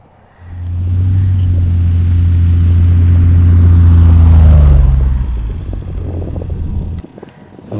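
A Cessna Skywagon on big tires rolls out after landing and brakes with its tail up, a loud, close, low engine drone that holds steady and then winds down over several seconds.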